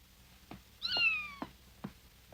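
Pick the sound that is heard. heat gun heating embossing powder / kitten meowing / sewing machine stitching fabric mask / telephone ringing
kitten meowing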